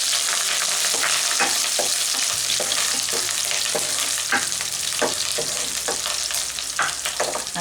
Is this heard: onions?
yes